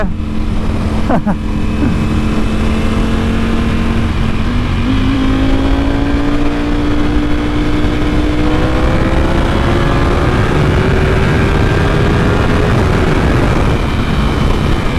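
A motorcycle named Devil out on a ride, its engine droning loud and steady with a rising whine as it accelerates through the gears, wind rushing over the mic throughout.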